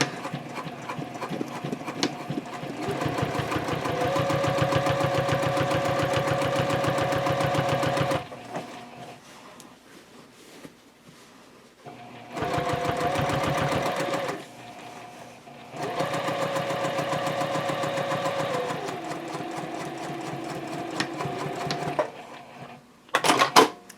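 A sewing machine stitches a tote bag seam at a 3.0 stitch length, running in three long, steady, close stretches of rapid mechanical clatter with short pauses between them for backstitching.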